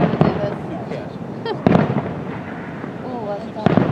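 Fireworks burst at the 2022 Beaver County Boom finale, loud and close, with sharp booms at the start and end over constant crackle, rising whistles, and people talking in the crowd.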